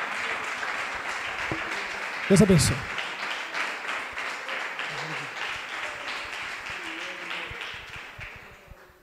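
A church congregation applauds at an evening worship service as a pastor is welcomed, a broad, continuous clatter of many hands running under someone speaking, with a brief louder burst partway through before the clapping gradually fades.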